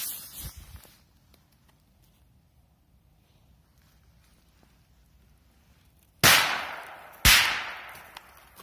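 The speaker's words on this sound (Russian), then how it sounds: "Следующая петарда Корсар" Two sharp, loud bangs about a second apart come from a Golden Dragon Korsar 3 firecracker outdoors, each with a short ringing decay, after several seconds of near silence.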